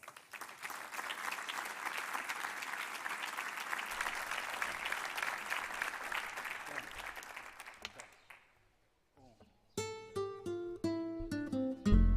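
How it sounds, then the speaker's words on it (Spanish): A crowd at a Día de Aragón event in Teruel claps steadily for about eight seconds, then the applause fades out and music with sustained tones begins. "les deberíamos dar un fuerte aplauso"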